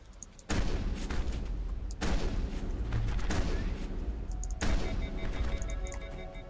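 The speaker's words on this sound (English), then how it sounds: "Shotgun." Three heavy, booming shotgun blasts fire in Mass Effect, each loud and close, followed by a long rumbling tail.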